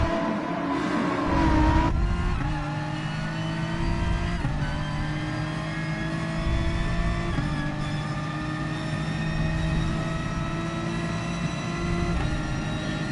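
A BMW M4 Gr.4 race car engine in a racing video game at Yamagiwa drones loudly and continuously, climbing in pitch through each gear with short drops at the shifts. No talk is heard.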